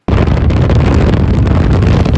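A car exhaust roars as it is recorded from a phone held out of the window of the moving car, buried under loud, constant wind buffeting that begins abruptly and lasts about two seconds.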